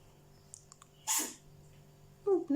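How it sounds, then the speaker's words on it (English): A cat indoors lets out one quick, sharp sneeze, a brief hissy burst up close after a few faint clicks, followed by a short soft rustle. "It's my cat, she's sneezing a bit."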